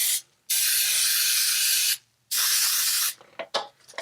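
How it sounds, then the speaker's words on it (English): Baking spray with flour hisses from an aerosol can into a pan in two long, loud bursts, each well over a second, then a few short sputtering puffs, close up with no talking. "when I spray these things"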